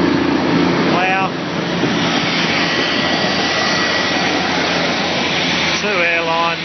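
A Steiger 535 tractor pulls a Gregoire Besson plough and Morris seeder through a paddock near Esperance, Western Australia, giving a loud, steady engine roar that continues throughout, with a few whistling tones over it.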